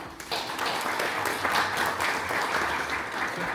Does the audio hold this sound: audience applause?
yes